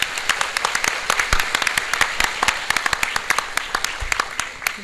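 A room full of people at an education seminar claps steadily, a dense patter of applause that carries on throughout without speech.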